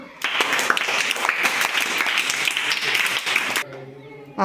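Schoolchildren in a classroom break into a burst of clapping for a classmate, a dense patter of many small hands lasting several seconds before stopping abruptly, with faint voices around it.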